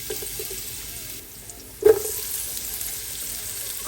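Garlic hits hot oil in a pan for pancit Malabon and gives a soft steady sizzle, with one sharp louder spatter of frying partway through, close by.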